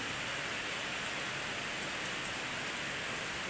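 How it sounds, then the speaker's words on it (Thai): A constant rain shower falls during sunshine, producing a dense, uniform hiss that stays level and fairly soft throughout, with no voices. "แดดกำลังออกดีครับฝนตกพร้อมครับ"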